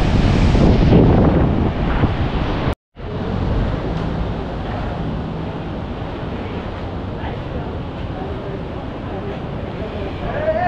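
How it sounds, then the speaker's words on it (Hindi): Fast-flowing Teesta river floodwater after a glacial lake outburst in Sikkim, a loud continuous rushing roar buffeted by wind on the microphone, with a brief cut early on before the torrent resumes steadily. "इतना तेज़ बहाव है।"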